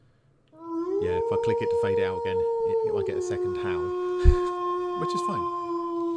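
A sustained wolf howl sound effect plays in a Foundry VTT tabletop session, one long rising tone holding steady for several seconds while people talk over it.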